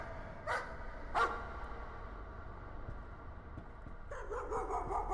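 A dog barks in the horror video game Layers of Fear, with two sharp, separate barks early on, a quiet pause, then a burst of rapid barking near the end, somewhat distant and echoing.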